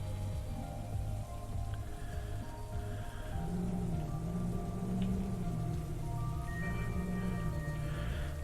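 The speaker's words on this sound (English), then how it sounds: "And it's raining, so I'll build up momentum quite quickly at the moment." Steady rain pours in the video game Sightseer, a continuous even hiss with low rumbling beneath, holding constant throughout with no talking.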